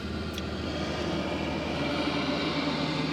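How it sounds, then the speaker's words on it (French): A farm tractor passing by outdoors, its low steady engine drone holding at a constant loud level for a few seconds with no voices over it. "J'attendais que le tracteur passe."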